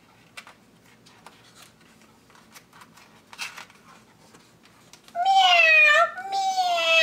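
A cat meows loudly in two drawn-out calls near the end, following several seconds of quiet rustling and faint scattered noises.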